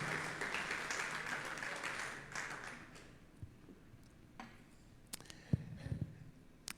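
A church congregation claps during a Sunday service, broad applause filling the first two seconds and then fading out, followed by scattered taps, knocks and faint room noise.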